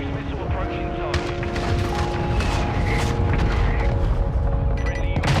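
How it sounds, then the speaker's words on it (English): A cruise missile strike explodes in the Call of Duty MWII video game: dense, booming blasts and rumbling impacts run throughout. Scattered gunfire and steady tonal game sounds are layered over them. "Friendly cruise missile approaching target."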